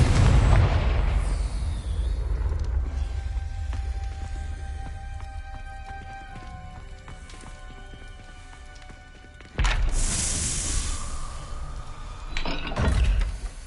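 A Confringo blasting spell in Hogwarts Legacy goes off as a sudden loud boom. A dense burst of sound breaks over a steady layer of game music, and a second swell follows shortly after.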